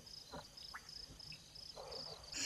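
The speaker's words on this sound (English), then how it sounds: "It's amazing that you can actually hear the crickets and not only the Egyptian goose shouting." Faint frogs croaking and crickets chirring at night, soft intermittent calls over a quiet insect-filled background.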